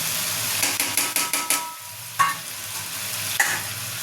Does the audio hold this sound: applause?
no